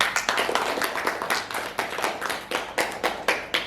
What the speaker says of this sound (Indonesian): Kasih aplaus lo.